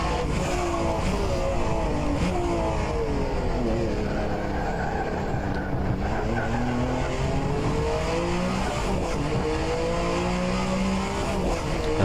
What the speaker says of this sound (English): Car's going quick.